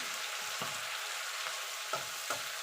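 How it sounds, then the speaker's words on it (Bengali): Spice paste with Kashmiri chili powder frying in a pan for radish ghonto, a steady hissing sizzle with a few soft thuds of the spatula stirring, close and alone. "এবার মশলাটাকে ভালো করে কষিয়ে নেবো যতক্ষণ মশলা থেকে কাঁচা গন্ধটা চলে না যাচ্ছে"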